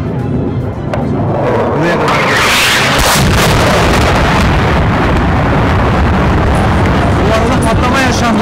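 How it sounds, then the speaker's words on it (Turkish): A loud explosion bursts out, with a sudden broadband roar that swells and stays thunderous for several seconds, while people talk and shout beneath it. "Patlama yaşandı burada."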